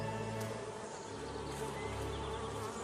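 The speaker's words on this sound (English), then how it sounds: "Wild African honeybees have established a colony within this hollow trunk." Wild African honeybees buzz steadily at a colony nesting inside a hollow tree trunk, a dense, continuous close drone of many wings with no pauses.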